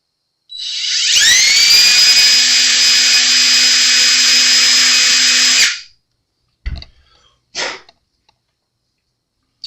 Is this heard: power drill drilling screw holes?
yes